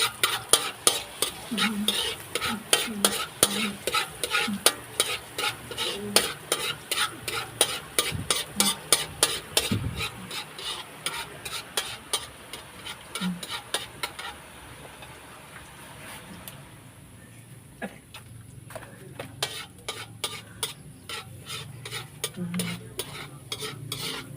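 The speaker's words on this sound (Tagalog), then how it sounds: "guys, lalagay na yung bawang." Garlic fries in a pan with a steady bright sizzle while a utensil scrapes and stirs in a fast, repeated rhythm, pausing briefly midway before the stirring resumes.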